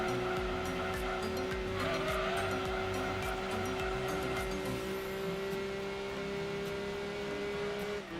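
A BMW in Gran Turismo 2 drives with a steady droning engine note held at constant pitch, tires squealing faintly underneath a busy, continuous race-car soundscape.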